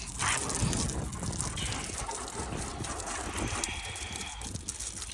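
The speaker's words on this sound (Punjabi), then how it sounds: "ਮੈਂ ਕਿਹਾ ਚਲ ਨਾਲੇ ਗੱਡੀ ਧੋ ਲੈਣੇ ਆ ਪਾਣੀ ਨਾਲ" Water splashes and gushes while a car is being washed outdoors, a faint irregular spray and trickle close by with no talking.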